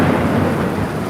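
Loud thunder rolls beneath heavy rain during a storm, a dense, sustained rumble with the downpour close and constant, and no one speaking.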